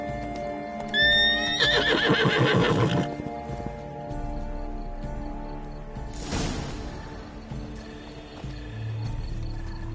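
Roach, the horse in The Witcher 3: Blood and Wine, gives a loud, close whinny with rising and falling pitch, then a shorter snort. Hoof clip-clops and faint game ambience run beneath.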